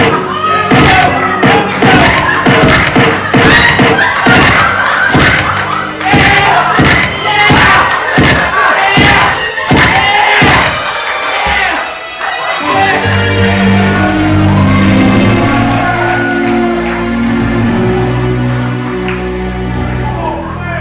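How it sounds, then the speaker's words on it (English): A theatre audience roars with crowd cheering and shouts as the villain is hurt on stage, dense and loud, with rhythmic thumps in the first half before the noise settles into a sustained sustained roar of voices. "You cheer when the villain gets hurt."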